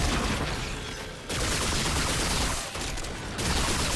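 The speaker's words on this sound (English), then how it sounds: "You shoot, it explodes." Rapid bursts of gunfire and explosions from the video game Remnant 2 form a dense, loud, continuous barrage that briefly drops away twice before resuming.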